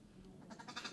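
A goat bleats several times at close range in a comic Nigerian street scene, short wavering cries growing stronger toward the end over a steady background hum.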